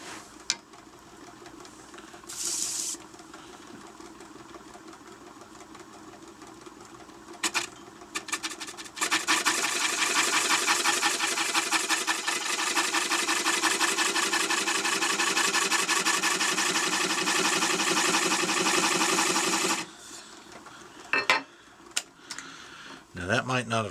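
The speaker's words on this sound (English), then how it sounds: "Now I can come in with the bowl gouge." A bowl gouge cuts a roughed wooden bowl on a lathe, giving a few short scraping bursts and then a long, loud continuous rasping shear of about ten seconds before it stops, followed by brief scrapes.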